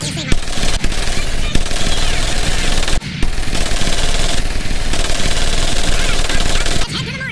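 An M1919A4 .30 caliber machine gun fires in the video game Medal of Honor Pacific Assault, loud sustained rapid bursts at close range, broken by brief pauses between long strings of shots.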